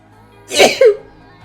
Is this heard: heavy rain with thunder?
no